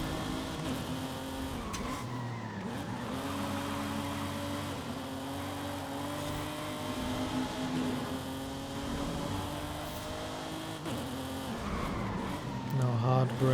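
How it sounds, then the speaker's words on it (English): A car drifts through city streets in the Forza Horizon 5 racing game, its engine droning steadily with tire squeal and skidding running continuously at a constant loud level, rising briefly near the end. "Drifting in the city, eh?"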